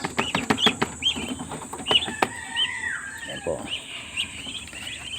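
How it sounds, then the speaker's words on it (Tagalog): Small ducklings being fed grated mango give quick, high peeps and chirps scattered throughout, close by, while a person talks over them. "Ito po yung mga alaga natin bitik na maliliit"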